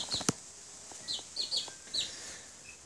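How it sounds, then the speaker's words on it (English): Young baby chicks peeping and clucking softly in short high chirps, a few scattered calls spread over a quiet background, close by with no talk. "wanted to record these new little chickens."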